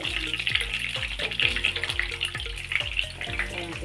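Chicken fries in hot oil in a home kitchen, giving a steady close sizzle with bright crackling bursts over a low repeating background hum.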